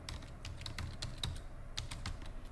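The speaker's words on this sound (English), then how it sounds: "So I would type that in." Rapid key taps on a computer keyboard while entering Excel criteria, a quick irregular clatter of close, crisp clicks filling a short stretch with no talking.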